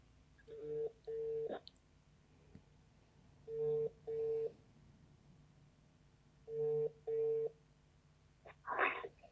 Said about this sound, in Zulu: Sithemba uzolibamba ucingo.